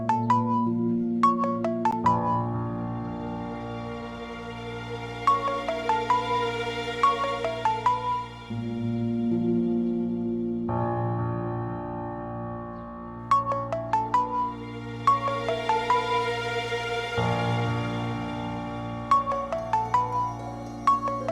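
Melodic phone ringtone playing alone in a TV drama scene, a bright repeating tune of chime-like notes over a sustained backing, cycling through its phrase twice at steady loudness with no voices.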